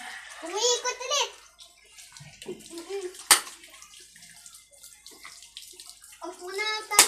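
Tap water running into a bathtub, a soft steady splashing flow beneath the chatter of a child and an adult talking nearby.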